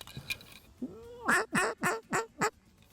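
Several loud duck-call quacks during retriever dog training, a drawn-out call followed by four or five sharp, evenly spaced honking quacks, close and clear.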